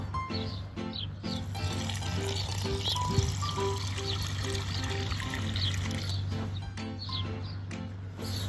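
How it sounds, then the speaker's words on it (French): Water poured into a terracotta pot buried in garden soil near a plant, a steady close pouring and trickling that runs continuously, with faint birdsong in the background. "quand le pot est en place, évidemment je mets de l'eau dedans"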